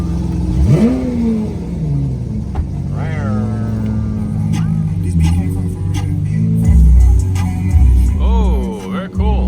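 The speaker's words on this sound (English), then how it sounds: "Electronics on and cold start firing up." A Lamborghini fires up from a cold start: the starter whirs, the engine catches with a loud rising flare, then settles into a deep idle with further revving blips, and voices exclaim briefly over it.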